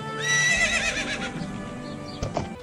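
Epona, the horse from the video game Ocarina of Time, gives a loud, close whinny that shakes and falls in pitch, followed by a few soft hoof clops.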